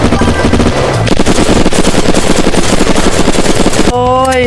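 Loud, rapid automatic gunfire in the video game Unturned, sprayed at a steel house in dense continuous bursts, with a brief shift in tone near the end.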